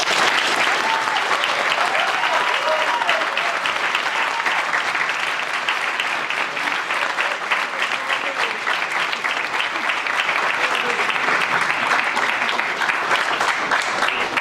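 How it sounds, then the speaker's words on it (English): Sustained audience applause at a university union Q&A event, steady dense clapping from a large crowd filling the whole stretch without a break, loud and close. "we'll start with a round of applause for Robbie."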